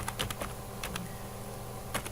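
Keystrokes on a computer keyboard as a password is entered, a quick scatter of light clicks with short pauses between bursts, close and fairly soft, with no one talking.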